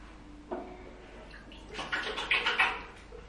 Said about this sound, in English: washing my face with my face wash